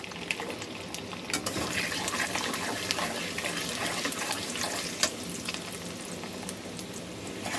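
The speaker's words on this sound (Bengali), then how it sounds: "আমি রসুনটা বেশি ভাজবো না, হালকা একটু ভাজলাম।" Whole garlic cloves fry lightly in hot oil, a steady close sizzle and crackle with a few sharp pops, continuous throughout with no talking.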